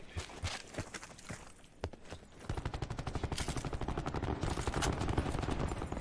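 Gunfire in the Black Ops 4 video game, with scattered single shots early on, then a dense rapid automatic burst that rattles on steadily for the last few seconds.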